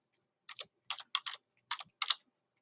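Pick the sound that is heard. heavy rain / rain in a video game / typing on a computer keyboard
typing on a computer keyboard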